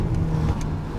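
A Mercedes A250 with a custom exhaust revs loudly and steadily at close range, a deep continuous engine drone with faint hints of crackle for about a second.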